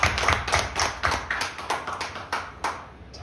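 A church congregation claps together during a Korean New Year's Day worship service, with loud, quick, rhythmic hand claps and no talking over them.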